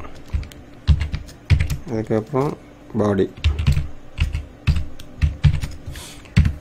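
Quick, uneven clatter of computer keyboard keys as a PHP script is typed in Notepad++, close and fairly loud, with someone speaking briefly over the clicking.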